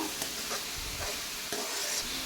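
Onions deep frying in oil in a pan for mutton keema, a dense continuous sizzle with spoon stirring strokes, loud and close, with no voices.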